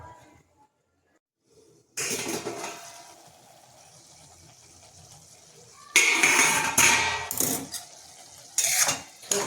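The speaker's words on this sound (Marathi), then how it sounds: "तर झाकण ठेवूया थोडा वेळ परत।" A lid goes onto a pan of cooking ridge gourd (dodka) vegetable, heard as a short run of metallic clanks and rattles after a quiet start, then bursts of clattering contact and handling close by.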